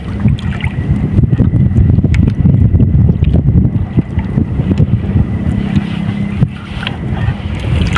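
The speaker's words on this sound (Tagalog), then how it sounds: "Malamig na yung hangin." Cold wind gusting at sea around a small fishing boat, a loud, steady rumbling buffet against the microphone with water sloshing beneath, no voices.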